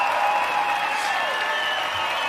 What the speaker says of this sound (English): let's go ahead and give Pete Hicks, Keg's Breath, a huge round of applause